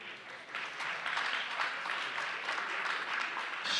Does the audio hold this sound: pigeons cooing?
no